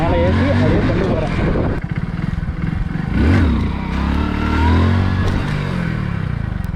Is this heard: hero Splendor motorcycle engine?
yes